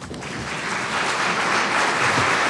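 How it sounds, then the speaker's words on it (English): A conference audience applauds at the end of a plenary talk, dense, sustained clapping from a large crowd that swells slightly over its short span. "A most deserved applause."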